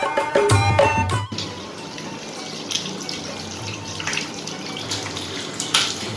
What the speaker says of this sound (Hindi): खाना खाने से पहले हाथ जरूर धोने चाहिए।